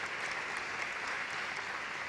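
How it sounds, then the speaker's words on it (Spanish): An audience at an agricultural awards ceremony in Almería applauds, producing a dense, even wash of clapping from many hands, faint and distant throughout with no talk over it. "Todo esto se puede aplaudir."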